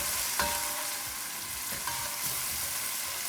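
Beans with extra garlic frying in a pot, giving a continuous even crackle and sizzle with a couple of faint utensil taps, nearby and without talking.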